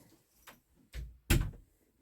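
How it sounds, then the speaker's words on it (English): An indoor door is pushed shut, giving a couple of soft knocks followed by a firm closing thud, close by in a quiet room. "just shut my door there because you can hear them outside."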